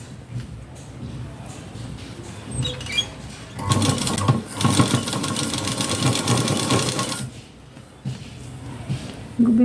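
A sewing machine stitches the front part of a blouse in a loud burst of a few seconds, with quieter handling and low movement sounds before and after.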